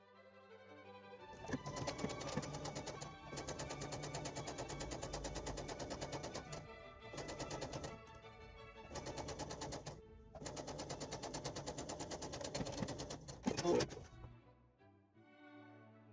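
A sewing machine runs in fast rattling bursts while stitching the side seam of a doll blouse, stopping and starting several times with brief pauses between runs.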